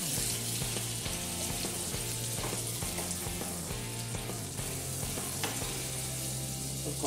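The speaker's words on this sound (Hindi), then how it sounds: "तो कॉर्नफ्लावर को अच्छे से भूनेंगे।" Cornflour roasts in melted butter in a pan for a creamy tomato soup sauce. A steady close sizzle and frying crackle is layered with stirring scrapes, and no one talks.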